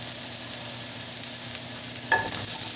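Fresh garlic frying in a pan for a squash salad, a steady bright sizzle with a brief scrape of stirring near the end, close and clear with no talking.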